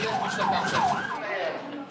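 An ambulance siren wails in Aleppo, Syria, amid wartime bombardment, a loud close warbling two-tone sweep cycling steadily for the whole stretch.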